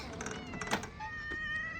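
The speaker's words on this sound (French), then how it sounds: "Voilà, petit chat numéro 2." A small stray cat meows once or twice near the microphone, a short plaintive call rising over faint outdoor background noise.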